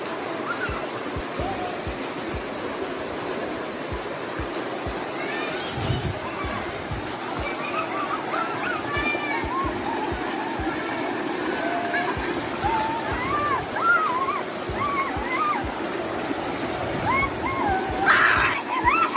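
Clear stream water flows steadily near a rural spot used for washing clothes, a continuous broadband rush with sloshing and splashes, while people talk over it throughout.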